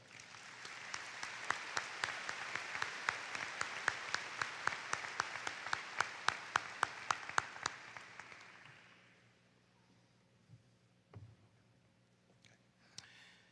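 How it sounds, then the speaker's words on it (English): Applause from a high school graduation audience, a dense wash of clapping with crisp individual claps, fading out after about nine seconds into quiet room noise. "Please give him a round of applause."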